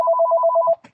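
A mobile phone ringtone trills in a rapid, steady electronic pulse for most of a second, then cuts off, followed by a faint click, with no talk over it.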